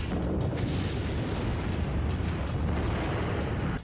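Explosions in war footage from Ukraine form a loud, sustained roaring blast rumble that fills the whole span with dense noise, without speech.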